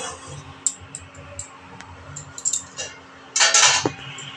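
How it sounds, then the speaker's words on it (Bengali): Metal utensils clink and scrape against a plate while duck egg curry is served, a string of sharp ticks and clatters with a louder burst of clinking near the end, no talking. "এখন আমি একটা প্লেটে সার্ভ করব।"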